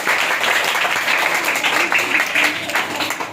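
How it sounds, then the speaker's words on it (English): Schoolboys at an English school clap together for a classmate, a dense, steady burst of applause in a room that holds loud throughout with some voices mixed in. "Boys, clap for Abdul Rahman."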